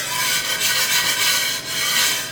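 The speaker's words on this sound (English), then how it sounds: "we're just gonna whisk, picking up all of the yummy goodness from all of the stuff that we cooked in this lovely pan" A balsamic pan sauce is whisked in a pan, giving a continuous, fairly loud scraping swish that stays steady for the whole moment with no talking.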